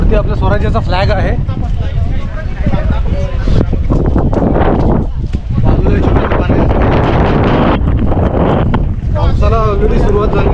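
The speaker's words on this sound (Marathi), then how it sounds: "वाऱ्या हा जबरदस्त आहे जोरात" Strong gusting wind buffets the microphone on the hilltop at Visapur Fort during early monsoon rain, a loud continuous roar with people talking throughout.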